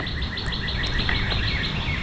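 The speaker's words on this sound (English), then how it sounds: "The birds chirping." Morning birds chirp in repeated quick high tweets over a steady outdoor hiss, moderately loud and continuous, with no voices.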